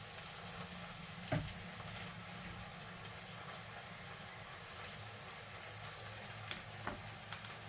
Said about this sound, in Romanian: Noi amestecăm un pieptul de pui.